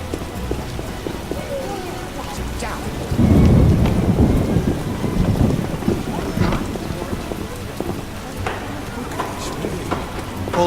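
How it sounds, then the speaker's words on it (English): Rain pours steadily in The Witcher game while a thunder rumble swells midway and slowly fades, leaving a continuous wet patter with faint clopping underneath. "Damn rain."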